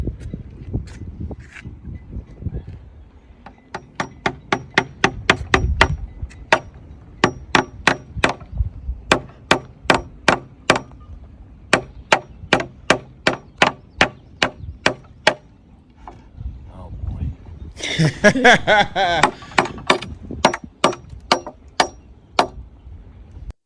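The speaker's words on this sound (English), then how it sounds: "Let's watch him try to hammer this board." Repeated hammer strikes on a wooden board, a long run of sharp, evenly spaced knocks that start slowly and then come fast, with a brief burst of scraping noise near the end and a short spoken exclamation.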